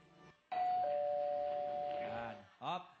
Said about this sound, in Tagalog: Kailangan mo muna mag-doorbell.